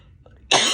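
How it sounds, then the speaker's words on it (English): A single harsh, breathy cough bursts out abruptly near the end, close and loud, after a brief quiet stretch. "I don't know why my cough started to flare up."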